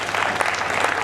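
An audience at a Ganesh Chaturthi comedy poetry gathering bursts into loud, dense clapping, a continuous wash of applause with no pause throughout.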